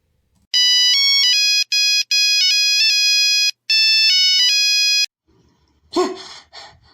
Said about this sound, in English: Ringtone.